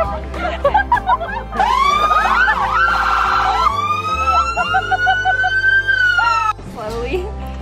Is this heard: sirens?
yes